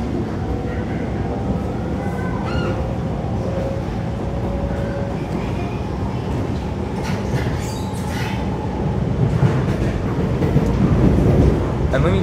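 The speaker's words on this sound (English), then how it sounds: "I decided to stay here because that's where you'll hear the motor most clearly" An Alstom Movia R151 metro train in Singapore rumbles along with a soft electric motor whine rising and falling, wheels clattering underneath and swelling louder toward the end; a voice talks intermittently.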